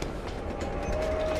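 A tram rolls along its track in BioShock Infinite, a steady low rumble with a rhythmic rail clatter and a thin metallic whine, continuous and close through the short stretch.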